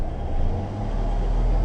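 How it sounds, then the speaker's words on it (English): A rough-running Acura car engine with an overheating problem, a steady low rumble heard close and alone without any talk. "You can hear how bad this car runs."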